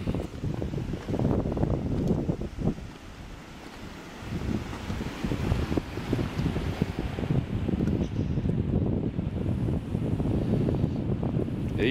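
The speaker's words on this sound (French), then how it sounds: "il y a du vent" Strong, gusty wind buffeting the microphone beside Lac du Génépy, a cold high-altitude Alpine lake below Dent Parrachée, with steady low roaring rumble throughout and no speech.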